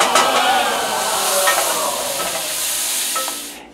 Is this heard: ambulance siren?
no